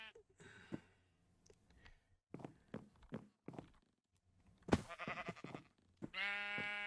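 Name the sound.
sheep bleating in a Minecraft-style video game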